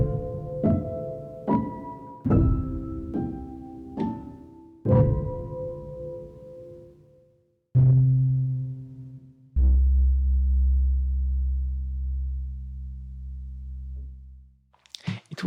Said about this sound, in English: The quarter speed sounds even more wobbly and distorted.